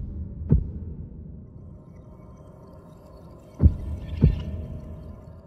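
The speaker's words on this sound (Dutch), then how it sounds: "Luister maar naar de hartkloppingen aan het begin van de trailer." Heartbeat of Ganondorf from the Breath of the Wild 2 trailer, deep muffled thumps: one early, then a double beat later, over a low ambient hum.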